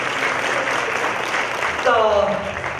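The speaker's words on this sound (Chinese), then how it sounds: "再给他们大家热烈的掌声" An audience applauds at a TV drama premiere for a series about women soldiers, a steady wash of clapping filling the room while voices speak and cheer over it.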